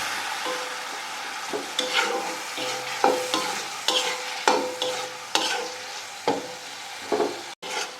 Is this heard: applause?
no